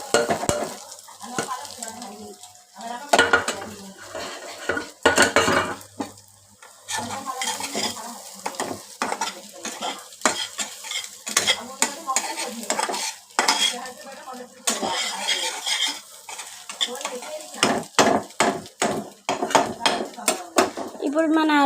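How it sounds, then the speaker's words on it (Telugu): A spatula clatters and scrapes loudly against a pan as egg is stirred and fried for egg fried rice, with rapid irregular metallic knocks over a bright ongoing sizzle, close up and without speech. "ఇప్పుడు మనది ఎగ్ వేసేసుకోవాలి."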